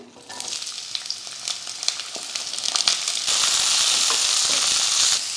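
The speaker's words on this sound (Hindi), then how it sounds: "तो इसमें हम डालेंगे 2 टेबलस्पून ऑयल और अब हम एक एक करके सब्जियों को फ्राई करेंगे" Cabbage dropped into two tablespoons of hot oil in a pan, a steady loud sizzle with crackling pops that swells and stays dense toward the end, with no voices.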